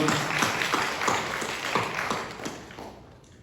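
A church congregation at a Korean Methodist Sunday service claps together in a steady, rhythmic beat that fades toward the end.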